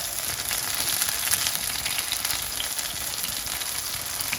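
Potato tikki sizzle and crackle in hot oil, a dense, steady frying hiss heard close and fairly loud with no talking.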